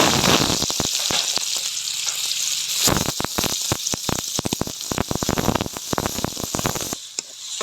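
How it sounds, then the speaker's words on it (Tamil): Onions sautéing in oil with cardamom and broken dried red chillies for a mutton gravy, a loud continuous sizzle broken by quick stirring scrapes and clicks against the pan, and no voices. "வெங்காயம் கொஞ்சம் நல்லா வதங்கட்டும்"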